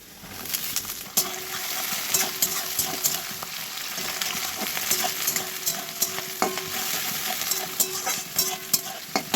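Carrots, whole spices, ghee and the rest of the fried rice ingredients sizzling in a kadai, with a spatula scraping and tapping the pan in an irregular rhythm over a close, continuous fry, no voices.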